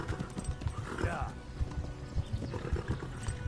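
A horse in the video game Kingdom Come gallops with rapid, rhythmic hoofbeats, and a neigh rises briefly in the middle while a voice talks over it.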